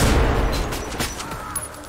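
Grenade explosion in a first-person shooter set in underground tunnels, a loud booming blast up front that rolls off into fading rumble and scattered debris over the next second or so, with no talking.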